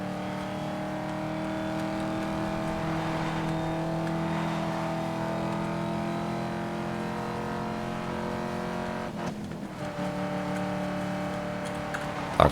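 A car engine drones steadily in Need for Speed: Most Wanted (2012) as the car accelerates, a sustained tonal hum holding through the drive with a brief disturbance near the end.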